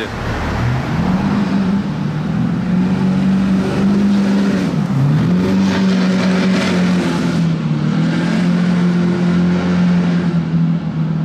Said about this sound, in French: j'étais prêt à avoir toutes les voitures accélérées dans le tunnel ce soir, mais pas la Batmobile